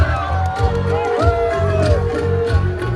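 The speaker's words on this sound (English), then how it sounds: "Can we have a big round of applause for contestant number 12?" Crowd cheering and whooping at the final round of a Miss KYF 2026 beauty pageant and fashion show in Diphu, Karbi Anglong, sustained and fairly loud over a pulsing background beat.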